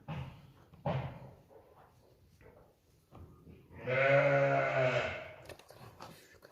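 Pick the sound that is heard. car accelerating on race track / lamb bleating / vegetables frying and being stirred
lamb bleating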